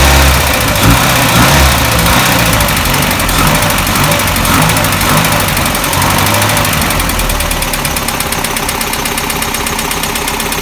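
An old 1965 International Harvester Scout 800 engine runs loud and close, idling roughly with a steady mechanical rumble and a couple of mild revs, no voices.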